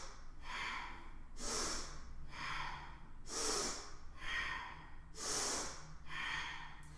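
Forceful, audible breaths during a breath-of-fire yoga breathing exercise, with about a dozen strong nasal huffs alternating in a steady rhythm close to the mic and no talking.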